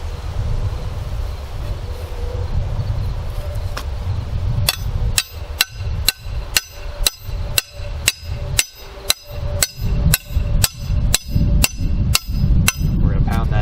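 A trap anchor stake is hammered into the ground on a trail: after a few seconds of low outdoor rumble, about seventeen sharp metallic blows land in a steady, evenly spaced rhythm, loud and close.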